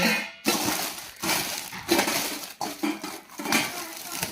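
A small steel plate and other steel utensils clatter and clink close by, with repeated knocks and scrapes throughout.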